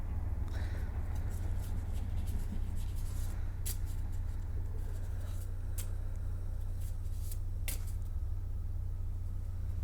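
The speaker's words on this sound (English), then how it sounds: "So around here we shuffle until Spirit tells us to stop." Lenormand fortune-telling cards are shuffled by hand, giving soft papery slides and sharper riffling flicks that come in short bursts over a low steady hum, with no one speaking.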